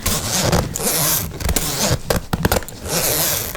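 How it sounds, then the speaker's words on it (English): A bag zipper is pulled along its track in a quiet indoor setting, giving close, raspy zipping strokes in several bursts separated by short pauses, with soft handling noises between them and no talking. "Sometimes these zippers glide very smoothly"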